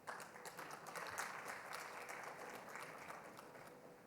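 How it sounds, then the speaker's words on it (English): Audience applause at a cybersecurity summit panel on secure digital government infrastructure, a steady wash of clapping from a sizable crowd lasting several seconds, fairly quiet and even throughout. "Round of applause, please."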